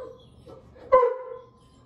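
A pet dog gives one short, sharp bark or yelp asking for food, loud and close in an indoor room, then trails off into quiet.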